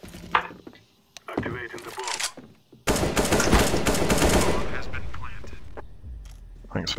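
Counter-Strike match with rapid gunfire bursts, a loud sustained volley in the middle after scattered earlier shots, under excited talk and game noise.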